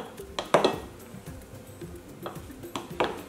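A spoon stirring a Nutella tiramisu mixture in a bowl, giving soft scraping with a few sharp clinks of metal against the bowl at irregular intervals, close and fairly quiet.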